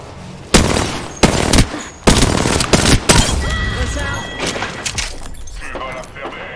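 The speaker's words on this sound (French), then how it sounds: "Je suis sous les tirs." Loud gunfire in the shooter game Apex Legends: a string of sharp, close bursts and single shots cracking out at uneven intervals, with denser rattling fire and shorter pops trailing off toward the end.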